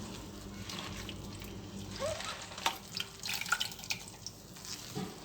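Water running and trickling from washed spinach being strained into another bowl in a home kitchen, a steady wet splashing with small drips and clinks, close and moderately quiet, no talking.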